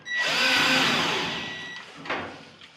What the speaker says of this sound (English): And start putting my screws in.